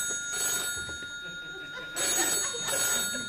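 A telephone bell rings in an indoor setting, a bright repeated trill that holds through the clip at moderate loudness with faint background voices beneath it.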